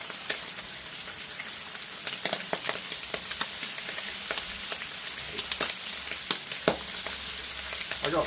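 Aldi cooking bacon frying in a pan, a steady close crackling sizzle with sharp spitting pops scattered throughout, no voices.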